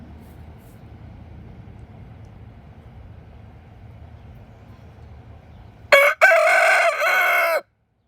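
Brahma hens let out a sudden loud, drawn-out call up close after a long stretch of quiet background hum, lasting about a second and a half before cutting off.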